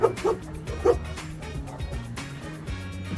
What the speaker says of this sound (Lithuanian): Šuo yra viduj.